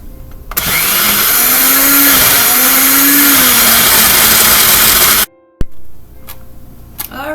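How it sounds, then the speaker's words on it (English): A blender whirs loudly and steadily for about five seconds, blending mango lassi with ice, its motor pitch dipping and rising before it cuts off abruptly, followed by a few light clinks. "the next thing is to blend it all up"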